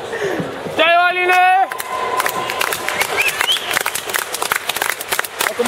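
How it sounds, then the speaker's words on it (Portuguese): Audience at a Brazilian wushu championship final, women's optional gunshu, claps and cheers loudly and continuously, with shouted voices and a whistle-like tone rising over the crowd noise. "Olha como é que aumenta o número de palmas."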